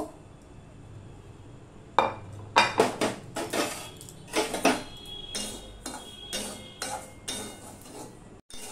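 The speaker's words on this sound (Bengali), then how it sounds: "এই সুজিটা আমি এবারে একটুখানি হালকা করে ভেজে নেব।" Semolina is lightly roasted and stirred in a pan, heard as a quiet background hiss broken by a string of sharp metallic scrapes and clinks of a spoon against the pan, irregular and close.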